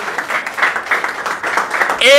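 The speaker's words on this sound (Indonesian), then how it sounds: "Berikan sorak-sorai buat Tuhan" A church congregation at a Christmas service cheers and claps in a short, lively burst of applause, with voices mixed into the clapping.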